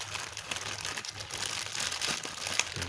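Packaging from a Fender Deluxe Reverb amplifier part being folded up, a continuous close crinkling and rustling with small crunches throughout.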